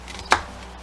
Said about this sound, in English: Let's get the red onion chopped up.